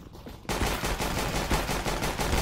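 Rapid, loud gunfire in Counter-Strike: Global Offensive, likely from a Tec-9 pistol, bursting in suddenly and continuing as a steady close stream of shots.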